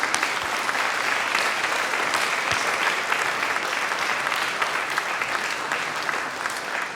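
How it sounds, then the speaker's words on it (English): Graduates at a university graduation ceremony applaud their families in a dense, continuous wash of clapping from a large crowd, steady and loud throughout in a big hall. "give them a wave and a round of applause as way of thanks"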